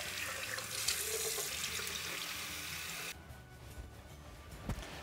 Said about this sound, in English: For me, I'm just gonna rinse it.